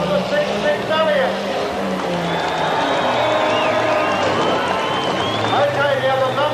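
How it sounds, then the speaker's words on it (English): Crowd applauding and cheering at an outdoor demolition derby awards ceremony, a broad steady wash of clapping and shouts with engine rumble underneath. "First of all, ladies and gentlemen, let's have your applause"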